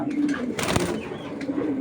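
Low, soft cooing of a female racing pigeon repeats nearby, interrupted midway by a brief rustling burst.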